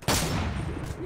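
Gunfire from Left 4 Dead 2, a sharp onset followed by a dense, sustained burst of rapid shots filling the whole second, loud and continuous with no pauses.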